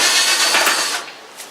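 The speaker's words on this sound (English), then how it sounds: "the easiest way to do that, of course, is with a drill driver, because you get at least 8 screws that are holding this thing together" A drill driver backs out screws from the top of an air conditioning unit, a loud close whirring burst that spins for about a second and then trails off.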